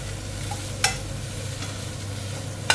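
Grilled catfish chili paste stir-fried in a pan, a steady sizzle running throughout with two sharp scraping clinks of a utensil against the pan, close and alone with no talk.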